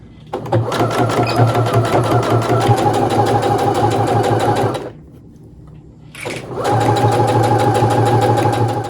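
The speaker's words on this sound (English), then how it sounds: "So we're going to sew with 1/4 of an inch on the sides and the bottom" A sewing machine stitches a fabric sunglasses case with a quarter-inch seam, running in a loud steady whir, stopping for about a second and a half, then starting again.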